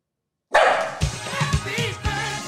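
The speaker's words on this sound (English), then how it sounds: "now the dogs are barking" Dogs bark in a backyard, starting with a sudden loud burst and then several sharp barks in quick succession, close by and without talk.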